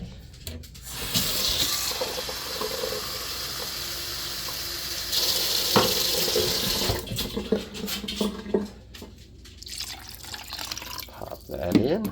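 Water from a kitchen tap pours into an emptied can, first a rushing hiss that changes pitch as it fills, then drips and sink clatter, while a person speaks over part of it.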